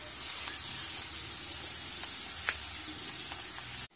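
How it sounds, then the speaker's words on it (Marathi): Onions browning in a pan fry with a loud, steady, close sizzle and hiss, with occasional light scrapes of stirring, before stopping abruptly. "यात आता आपल्याला कांदा पहिल्यांदा भाजून घ्यायचा आहे व्यवस्थित"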